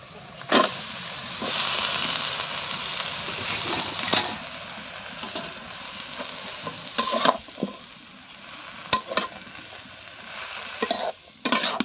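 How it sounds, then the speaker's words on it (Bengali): Washed leafy greens hit a hot pan and fry with a steady sizzle, broken by several scraping stirs and clattering knocks of a utensil against the pan. "এখন শাকটাকে আমি দিয়ে দেবো।"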